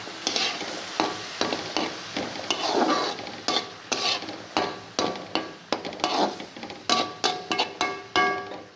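Bitter gourd frying in ghee with turmeric, salt and chili, a steady sizzle broken by repeated rhythmic scrapes and knocks of a spatula stirring the pan, growing more regular toward the end.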